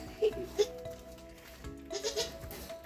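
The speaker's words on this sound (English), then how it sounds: "Hey, hello, little goats." Goats on a farm give several short, wavering bleats close by, a couple of sharp calls early and a cluster of overlapping bleats near the end, over a steady low hum of background noise.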